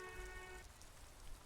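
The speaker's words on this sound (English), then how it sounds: "it's raining today" Steady rain falls in the video game Disco Elysium, a soft continuous patter on surfaces, quiet and even, with a faint tonal hum at the start and no voices.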